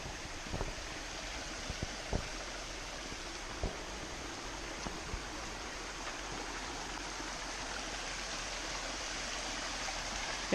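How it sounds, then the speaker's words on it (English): A creek flows at a trail crossing in Gorges State Park, North Carolina: a soft, steady rush of running water with a few faint clicks and taps scattered through it, no voices. "We have come up on one of the first creek crossings"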